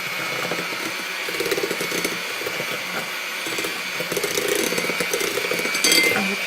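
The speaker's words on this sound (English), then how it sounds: "now we're going to beat it until it's pale, so this is going to be a bit noisy. So just an electric mixer." An electric hand mixer beats egg yolks and sugar for vanilla ice cream, a steady buzzing whir with rattling beaters knocking against the bowl, loud and close, alone without talk.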